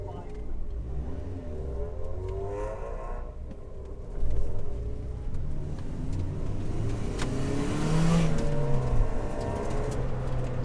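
A race car heads out on a warm-up run during an SCCA time trial at Thompson, its engine droning and rising steadily throughout, with a swell of revs near the middle and a rougher roar toward the end.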